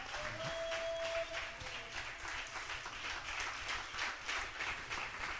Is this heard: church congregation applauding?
yes